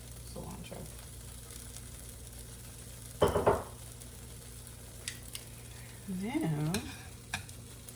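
A birria taco cooks in a pan with a quiet, steady sizzle, interrupted by a couple of louder stirring scrapes, while a voice speaks briefly.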